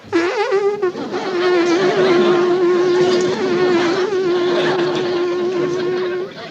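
A voice hums a long, steady, nasal buzz imitating bees, holding one droning pitch for several seconds after a short opening burst.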